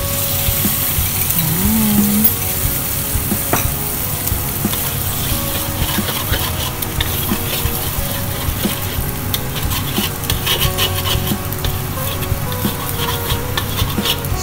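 Beaten egg hitting a lightly oiled hot wok, a loud steady sizzle with scraping and clattering stir strokes of a spatula throughout, close and continuous with no talk.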